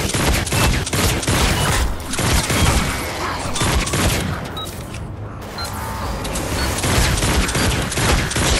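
Rapid volleys of new weapon fire in Fortnite, loud and continuous bursts with booming impacts throughout, a brief dip midway before the shooting resumes.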